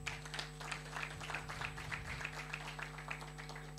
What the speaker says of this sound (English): Invite him with a round of applause